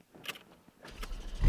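A Porsche Cayman GT4 with PDK cranks over, a couple of faint clicks and rustles before a deep engine rumble swells at the very end of a short moment, close and with no talking.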